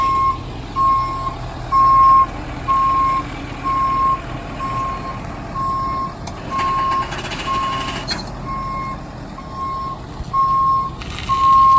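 A snack truck turns around and backs up a steep driveway toward a grassy spot, its reversing alarm beeping in a steady, evenly spaced series over a low engine rumble, with a brief louder burst of noise partway through.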